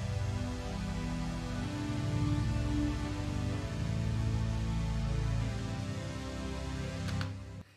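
Smooth, dry synth chords with no effects from a remix, sustained warm tones shifting through a few chord changes before cutting off with a faint click.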